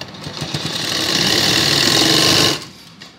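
A sewing machine stitches a salwar belt on fabric for a baby's Afghani salwar, whirring up into a steady close run for about two seconds before stopping abruptly.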